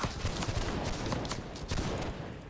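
Musket volley fired on command in the Napoleonic video game Holdfast: Nations at War, a dense, ragged crackle of many shots rolling together at moderate loudness, with no voices.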